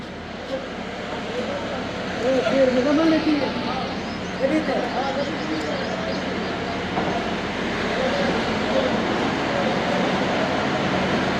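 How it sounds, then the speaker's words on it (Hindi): Thal Express train pulling out of Liya railway station, a British-era station built in 1887, with a steady rumbling rail noise and faint clatter running throughout, while people talk nearby over it. "9:58 पर ट्रेन रवाना हो रही है दोस्तों लिया रेलवे स्टेशन से"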